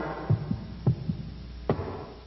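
Heartbeat sound effect from a Nickelodeon bumper, a few dull, low thumps in loose pairs over a faint hum, fairly close and isolated, with no talk.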